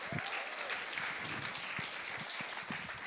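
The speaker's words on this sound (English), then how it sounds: "Please give him a warm round of applause as well." An audience applauds M1 of the hip hop group dead prez as he is introduced, a brief, fairly quiet patter of clapping from a modest crowd with a few low thumps underneath.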